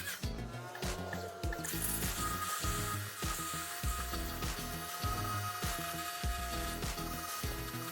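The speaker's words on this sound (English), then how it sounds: "I have a pressure washer which helps speed up the process some" A pressure washer sprays Plasti Dip off a car wheel with chrome and black sections, giving a steady loud hiss of water broken by rhythmic sputtering bursts, close up and with no talk.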